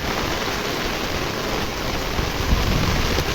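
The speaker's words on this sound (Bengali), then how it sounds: "আমি ছাতা নিয়েও ভিজে যাচ্ছি বৃষ্টির তীব্রতা কতটুকু তাও এখান থেকে টের পাওয়া যাচ্ছে" Heavy rain pours down outdoors on a rainy day around someone holding an umbrella in the wind: a dense, constant roar of rainfall with no pauses and no voices.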